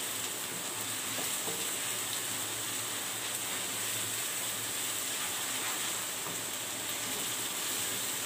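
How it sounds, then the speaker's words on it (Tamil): Tomatoes and onions sauté with a little salt in a pan for black chickpea vadacurry, giving a soft, steady sizzling hiss that runs evenly from start to finish with faint occasional stirring. "தக்காளி நல்லா வதங்கி வரட்டும்"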